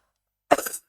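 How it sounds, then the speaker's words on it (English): A single sharp cough from a person who is still sick, close and fairly loud, bursting out after silence and trailing off in a short rough tail, with no talking. "I'm so sorry for coughing"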